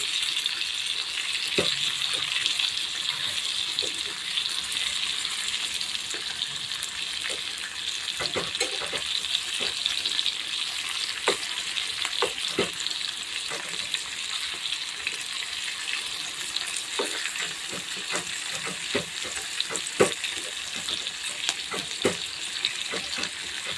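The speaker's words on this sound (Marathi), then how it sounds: "अशाच पद्धतीने पलटी करून घ्यायचे खालचा भाग छान शिजलेला आहे" A flipped vegetable dish sizzling steadily in a pan, with occasional light scrapes and clicks of a spatula, close and continuous with no talk.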